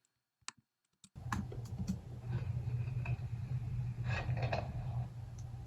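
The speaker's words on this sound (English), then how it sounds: "here's the other Lego sound" A Lego box being handled and tapped to serve as a drum sound, with a couple of faint clicks before a steady, close rumbling rustle of the box being moved.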